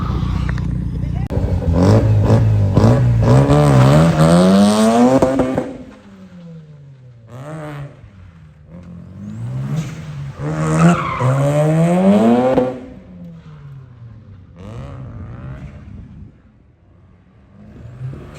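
A Mazda RX-7 FD revs hard and skids at a motorsports weekend, its engine note bouncing off a nearby shed, with loud rising and falling revs and tire squeal in two long bursts.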